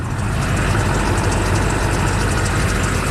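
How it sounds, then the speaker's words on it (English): An LB7 Duramax diesel truck engine idles steadily up close, a constant low rumble with a thin high-pitched squeal from a squeaky drive belt running through it, no voices. "Another thing that we want to fix on this truck is the squeaky belt."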